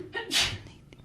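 A single quick, breathy sneeze bursts out close by, short and sharp, followed by a faint sniff.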